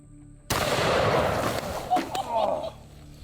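The world's biggest gun fires one sudden loud blast that booms and rolls off over about a second, with a couple of sharper follow-up cracks and clatter as the echo fades.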